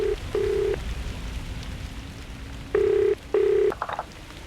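A telephone is dialed in the ghost-hunting adventure game The Lost Crown: several short, clear keypad tones in two pairs, separated by a pause, over a steady rain-like background hiss.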